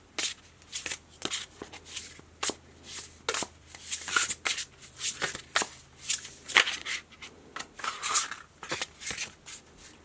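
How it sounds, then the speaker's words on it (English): Tarot cards being shuffled up close, a continuous stream of crisp riffles and soft slaps in uneven bursts, with no talking. "Let's pull you guys like one more card."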